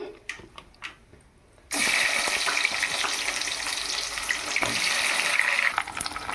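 Sliced onions hit hot oil in a small tempering pan with urad dal and mustard seeds, bursting into a loud, steady sizzle after a quiet start with a few light clinks, then hissing on evenly to the end.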